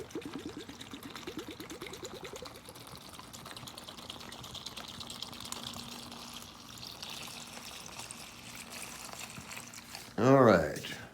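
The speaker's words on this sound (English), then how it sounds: "we will just pour vinegar into this bag and let it set" 5% white vinegar is poured into a Ziploc bag holding a rusty prewar Marx Canadian Pacific toy train, a steady soft liquid rush running for several seconds, with a short sharp burst near the end.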